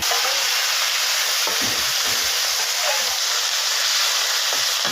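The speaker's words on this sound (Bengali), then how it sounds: "এখন আমি মাছগুলোকে লাল লাল করে ভেজে নেব।" Small fish frying in hot oil for a Bengali dish, giving a steady, close broadband sizzle with a few faint stirring clicks and no talking.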